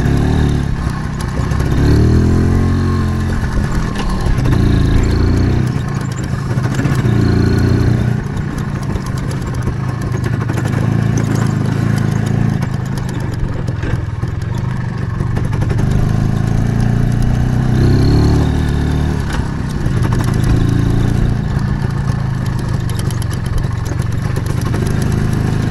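An IZh Planeta motorcycle engine runs loud and close throughout on off-road terrain, a steady rumbling drone with rising and falling revs.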